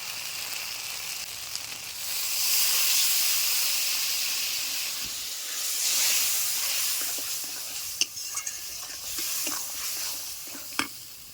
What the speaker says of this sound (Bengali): মশলাগুলো সুন্দর করে কষিয়ে নেব। মশলা কষার জন্য দিয়ে দিচ্ছি একটু জল।